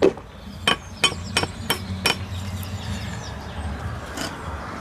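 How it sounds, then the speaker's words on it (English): A hammer taps on a loose, hollow infill panel in an old timber frame, about six sharp, dull knocks in quick succession, then one more after a pause. "If I get the hammer, it doesn't sound very nice, does it? That's all loose and hollow."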